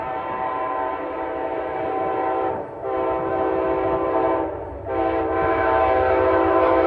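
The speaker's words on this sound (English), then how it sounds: "As the locomotive special passes, it meets an eastbound Northeast Regional" An Amtrak locomotive special's horn blares loudly in a sustained chord with two brief dips, over the rumble of the train passing close by on the Northeast Corridor in Connecticut.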